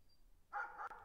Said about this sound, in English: But why is there barking?